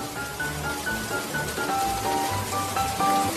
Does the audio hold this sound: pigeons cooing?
no